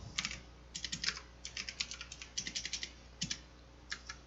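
Typing on a computer keyboard: quiet bursts of quick, crisp key clicks in irregular clusters with short pauses, close and alone over a faint hum.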